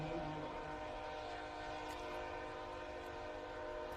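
A freight train horn sounding near a high school football game, a long sustained chord-like blast held steadily throughout, moderately loud over a faint crowd murmur.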